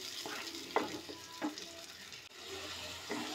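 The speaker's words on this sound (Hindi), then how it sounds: "मसाले को हम धीमी आंच पर 6 से 7 मिनट भून लेते हैं।" Masala gravy of onion and tomato frying on low flame makes a soft, bubbling sizzle, with a few scraping stirs of a spoon through the paste.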